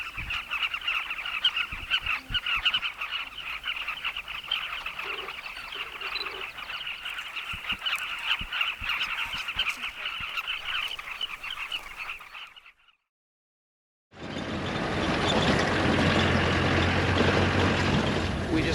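Carmine bee-eaters call in Zambia in a dense, continuous chattering chorus at moderate distance. It breaks into a short silence, then gives way to a steady wash of noise.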